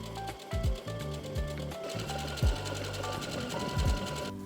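Sewing machine stitching the side seams of linen balloon pants, a fast steady mechanical whirring with rhythmic needle clatter and a few low thumps as the fabric is handled, close and continuous.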